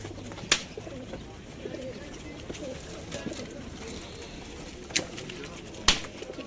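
Pigeons and doves coo and call in a busy bird market, a low steady murmur of birds with a few sharp clacks and wing-like bursts, while people talk nearby.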